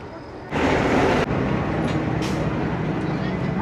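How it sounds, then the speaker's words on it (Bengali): An express train pulls into Hikkaduwa railway station with a loud, sudden onset of broadband rumble and rush. The noise stays steady and heavy, with a brief louder surge before settling. "ঢুকে গেছে আমাদের ট্রেন।"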